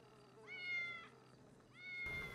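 Two synthetic cat meows from the GTA 5 video game, each a rising then falling tone, separated by a short pause over a faint steady background hum, ending in a burst of noise.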